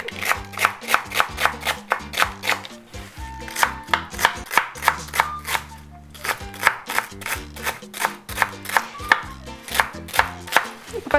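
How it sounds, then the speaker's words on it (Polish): Kitchen knife finely chopping tough kale or chard stalks on a cutting board, a fast steady run of crisp close knocks, about two per second, continuing with only a brief pause and no talking. "to trzeba bardzo dokładnie posiekać, dlatego że to będzie twardsze"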